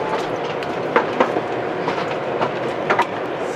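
A passenger train near Paris Charles de Gaulle airport rumbles along with a steady low roar and occasional wheel clatters, heard from inside the carriage with no talking.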